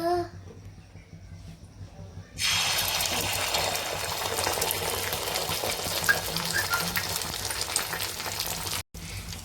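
Egg omelette mixture poured into hot oil in a pan on a gas stove bursts into loud, steady frying after a quiet start, crackling evenly and close to the pan.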